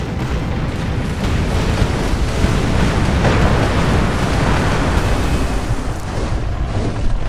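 Cannon fire and explosions in the pirate video game Tempest make a dense, continuous rumbling roar with a few louder booms, loud and unbroken, with no voices.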